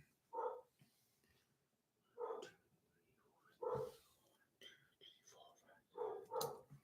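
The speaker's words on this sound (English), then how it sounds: "I don't know what they're barking at, but they're barking at something." Dogs barking indoors in a home during a live stream, short separate bursts of barks spaced a second or two apart, moderately distant and fairly faint.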